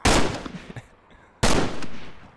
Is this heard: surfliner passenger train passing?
no